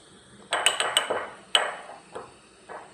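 A spoon clinks sharply against a bowl while a viral face mask paste made with rice water is stirred: several quick, ringing taps in a cluster, then a few softer, spaced knocks. There is no talking.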